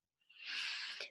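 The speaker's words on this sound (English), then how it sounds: "Actually, I did sneeze." A single short, quiet human sneeze bursts out sharply and trails off within about a second, alone with no talk around it.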